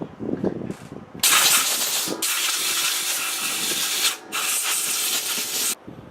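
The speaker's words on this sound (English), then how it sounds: "what I'll do now is get my air compressor, if you have one." An air compressor blows air in loud, sustained hissing blasts, two long bursts separated by a short pause, preceded by a few brief puffs and clatter.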